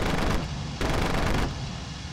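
Aircraft cannon fire in the WWII flight game IL-2 Cliffs of Dover comes as two loud sustained bursts of rapid, rattling shots over a steady engine drone, close and dominant.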